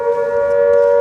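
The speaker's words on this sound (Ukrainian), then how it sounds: "повітряна тривога у нас, бачите, буквально через 30 метрів на стовпі" Civil defense air raid siren mounted on a pole about 30 meters away at a Kyiv market, a loud, steady sustained wail held at a single pitch with no talk.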